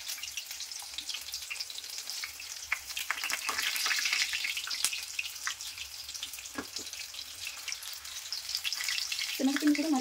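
Mirchi bajji, gram-flour chili fritters, frying in hot oil: steady close sizzling and crackling with a few sharp pops, and a faint clatter near the end.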